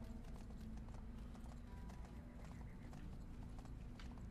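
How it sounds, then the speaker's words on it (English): A summoned horse gallops in the fantasy video game Bless Unleashed, with steady rapid hoofbeats under a dense, loud wash of game ambience and music, continuous throughout. "I might as well summon my horse. So let's get her riding."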